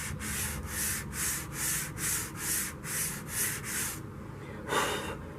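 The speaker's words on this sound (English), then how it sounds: "I'm going to run this sandpaper very gently along the edges on all sides." Fine sandpaper is rubbed gently along the edges of a carved wooden sword in about nine even, rhythmic strokes, then a short pause and one final stroke, close and fairly soft with no talking.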